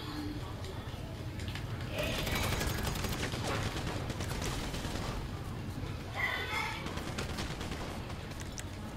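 Rapid gunfire from a newly acquired gun in a shooter video game crackles in dense bursts, with a couple of heavier volleys, under ongoing voice chat.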